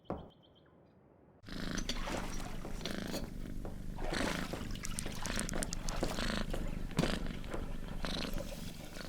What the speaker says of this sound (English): Hodge, who I think I must begrudgingly consider to be my cat